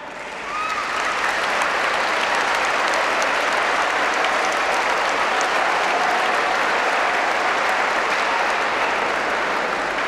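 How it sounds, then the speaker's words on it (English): A large group of students claps continuously and loudly in thick, sustained applause that starts within the first second and holds evenly to the end. "Boys, you should clap well."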